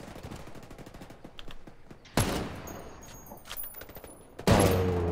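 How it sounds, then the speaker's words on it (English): Two sharp sniper rifle shots crack out in Ghost Recon Wildlands PvP, the first around two seconds in and the second near the end, each with a booming decay over faint background rattle. "I'll snipe him."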